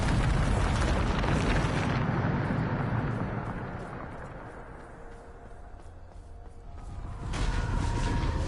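A Bombarda spell explodes in the Hogwarts Legacy video game with a loud, roaring blast that rumbles and slowly fades, before a second surge of explosive noise builds near the end.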